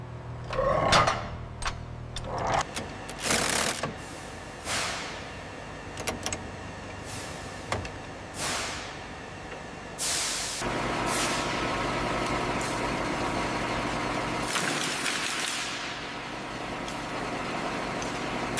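A military recovery truck slows down, with repeated sharp air brake hisses and bursts over a low diesel rumble that settles into an idle, heard close and without talk.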